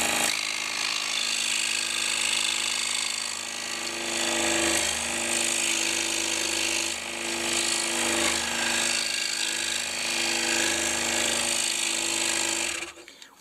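A scroll saw cuts with pendulum stroke at full stroke rate, giving a steady, loud buzzing rasp with a rapid rhythmic chatter that dips and swells slightly before stopping abruptly at the end.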